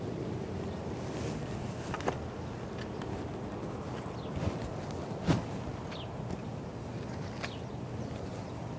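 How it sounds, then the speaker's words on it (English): Strong steady wind blowing outdoors in a garden, a constant broadband rush with occasional faint knocks and rustles, no voices. "It is super windy out here."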